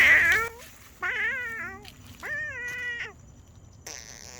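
A cat meows several times, short drawn-out cries with pauses between them, fairly close, followed by a brief rustle.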